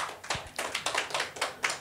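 A church congregation at a Sunday service claps in a loose series of sharp, broadband hand slaps, about eight distinct claps over a couple of seconds, fairly close with no talking.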